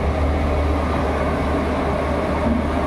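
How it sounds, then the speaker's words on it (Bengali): A Vande Bharat express runs alongside on the neighbouring track while the passenger's train travels at around 100 km/h out of NJP. Together they make a loud, steady rumble of wheels and rails with constant roar and no pauses. "একসাথে দুটো ট্রেন যাচ্ছে।"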